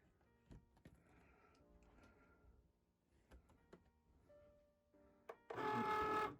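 A Cricut cutting machine feeds a cardstock sticker sheet in, heard as faint mechanical whirs and clicks followed by a loud, steady motor burst near the end.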